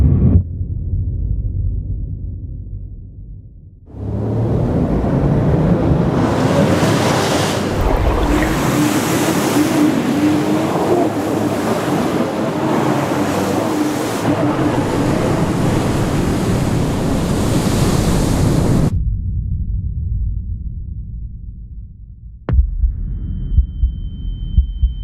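Surf at Jeffreys Bay: a heavy, sustained roar of breaking ocean waves rushes in after a quieter lull and fills the scene for about fifteen seconds before cutting away to calmer water.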